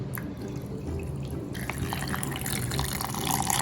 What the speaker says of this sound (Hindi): तो इसमें अब आप डालें अपनी टी।